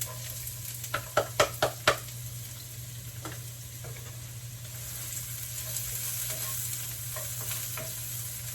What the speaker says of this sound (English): So now that our pan's nice and hot, we're going to put our onions in there.